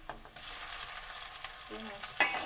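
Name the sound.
frying ginger garlic paste with panch phoron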